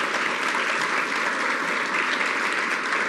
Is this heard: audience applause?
yes